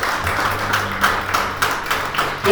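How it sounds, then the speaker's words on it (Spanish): A church congregation claps in praise of God during a Sunday service. The clapping is dense and rhythmic, with steady beats under a warm room sound, and is fairly close and loud. "No es para darle un aplauso de alabanza a Dios por eso."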